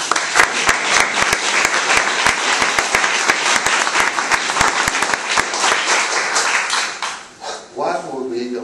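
An audience at an annual meeting breaks into loud, close applause, with many distinct hand claps ringing out in a dense stream before it tapers off and a voice begins speaking.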